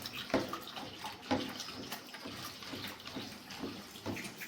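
Liquid pours into a homemade handwash mixture in a bottle with a continuous splashing, gurgling flow and a few louder sloshes. It is close and quiet, with no talking.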